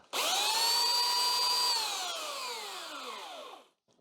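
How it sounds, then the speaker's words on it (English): An 80 grit belt sander runs at full speed, a loud steady whine with strong harmonics that then slowly drops in pitch as the motor spins down and stops, alone with no talk. "That's an 80 grit belt, so it takes off a lot of material in a big hurry."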